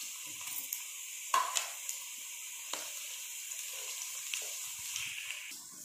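Onions browning lightly in a pan for chicken aloo shorba, giving a soft, steady sizzle with occasional crackles and small stirring clicks close by.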